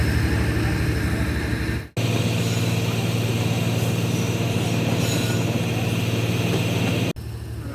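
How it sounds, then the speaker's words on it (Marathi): A loud, steady rumble of the Sindhudurg Express departing Khed station, continuous and close, with two brief cuts in the sound. "ट्रेन निघत आहे खेडवरून"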